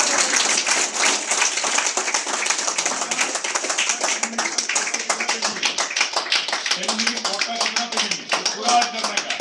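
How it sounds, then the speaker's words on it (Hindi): An audience at a business opportunity meeting claps in a dense, rapid patter that stays loud and close for the whole stretch, with voices calling out over the clapping. "हर फैक्ट्री के लिए तालियां होना चाहिए"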